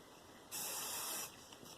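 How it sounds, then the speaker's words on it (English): Texture hairspray hisses in one steady burst of under a second onto hair, close and loud, alone against a quiet room. "I usually will go in with a little bit of texture spray."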